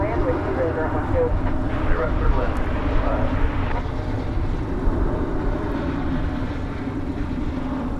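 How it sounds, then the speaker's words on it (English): An American Eagle Embraer 175 airliner takes off at DFW Airport, its engine roar a steady broadband rumble that stays continuous and fairly loud throughout, with radio chatter and talk layered over it. "Our first takeoff of the day, American Eagle Flight 3893. It's off to Laredo on the Texas border. It's an Embraer 175."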